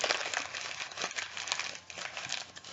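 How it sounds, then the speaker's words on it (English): Lined paper being crumpled up by hand at a wax art workspace, a steady close crinkling and rustling that continues throughout with small crackles, no voices. "But you can just crumple it up"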